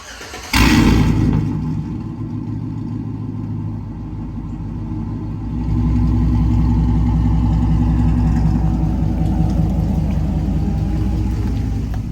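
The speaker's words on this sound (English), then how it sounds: "I guess it is time for our first startup being tuned" Freshly tuned GMC Sierra 5.3 V8 fires up with a loud crank and catch, then settles into a steady deep rumbling idle, the note stepping up briefly partway through and holding close and continuous.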